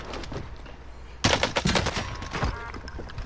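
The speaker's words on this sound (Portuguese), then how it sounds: "Tô tomando tiro" Gunfire in the video game Warzone, with quieter distant shots giving way to a sudden burst of loud, rapid automatic fire and scattered follow-up shots, close and sharp.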